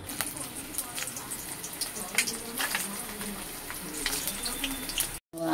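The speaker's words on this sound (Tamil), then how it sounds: "இதை வறுத்து எடுத்துக்கலாம்." Balls of dough spiced with green chili, coriander and garam masala fry in hot oil with a soft, continuous sizzle, broken by occasional clinks and stirring noises, then a brief gap near the end.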